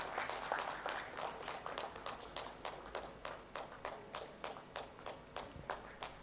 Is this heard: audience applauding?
yes